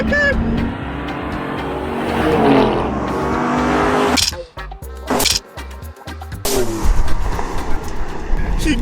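A Ram TRX and a Ford truck drag race, their engines roaring loudly and revving hard before a sudden drop-off and choppy shifts, with excited voices speaking over the noise.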